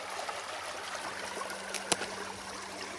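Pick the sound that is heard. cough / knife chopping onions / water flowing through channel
water flowing through channel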